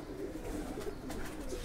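A ferozpuri faqeergull mix-breed female pigeon with a closed tail coos softly in a low, murmuring run, under steady background hiss.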